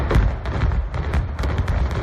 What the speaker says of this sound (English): the historic demolition of a Lehigh Valley icon Sunday morning